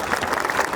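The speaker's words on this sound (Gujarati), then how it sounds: "તો આપણે જ આપણું સ્વાગત જોરદાર તાળીઓથી કરીએ વાલી મિત્રો" Parents applauding at a school annual function, a brief burst of dense, even crowd clapping heard at a distance.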